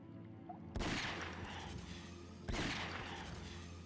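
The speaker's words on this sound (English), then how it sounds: "I'm gonna shoot some rats real quick." Two heavy gunshots fired at rats in the PS2 game Ghosthunter, each a sudden loud blast with a long rumbling decay, spaced about two seconds apart over a steady low ambient hum.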